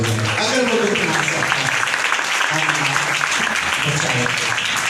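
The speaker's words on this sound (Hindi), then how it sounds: "आइए यीशु मसीह के दुखों के लिए जोरदार ताली बजाएं।" A church congregation claps loudly and continuously in dense, sustained applause, with voices mixed in throughout.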